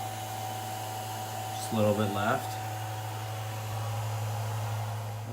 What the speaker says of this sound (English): we switched to the hair dryer because the stupid heat gun broke